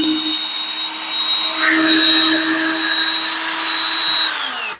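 Power drill backing screws out of a door lock while a manual lock is being fitted: a continuous high-pitched whine that swells in the middle, then drops off at the end.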